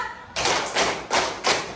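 Students in a classroom clap in unison four times, each burst broad and crisp, evenly spaced in a steady counted rhythm, close and loud with no voices.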